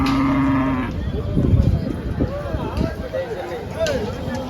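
Cows, including HF, Jersey and desi breeds, moo at a busy cattle market in Chalisgaon, with one long, loud moo followed by quieter lowing amid crowd chatter and people talking.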